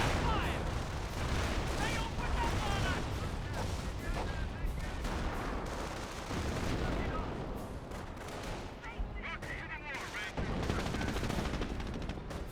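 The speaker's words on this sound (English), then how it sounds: "Multiple airburst rounds there." Artillery airburst rounds in Company of Heroes, dense overlapping booms and crackling small-arms fire rolling continuously through a busy battle soundscape, with a commentator's voice talking over the action.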